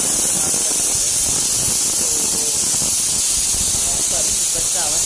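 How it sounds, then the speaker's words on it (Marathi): A pressure cooker vents steam in a loud, constant hiss close by, filling the whole stretch while a voice talks faintly underneath. "आवाज येणारच कुकर लावला आहे तर."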